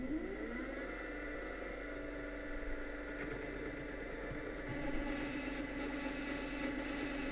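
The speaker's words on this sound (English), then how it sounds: "now I'm going to be using the Irwin step drill" An Irwin step drill boring at low speed with cutting oil, a steady mid-pitched motor whine with faint grinding and a few small knocks, close and moderately quiet.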